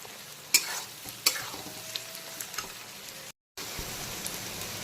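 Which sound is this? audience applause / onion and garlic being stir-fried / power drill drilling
onion and garlic being stir-fried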